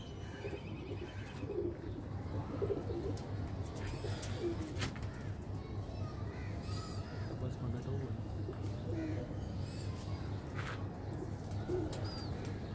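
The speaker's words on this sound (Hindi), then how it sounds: "कबूतर देख रहे होंगे जैसे अटैक में है पुराने मगर ब्रीडर है" Pigeons of a breeding pair kept by a fancier give a steady, continuous low cooing with a few sharper calls mixed in, fairly close and filling the whole stretch.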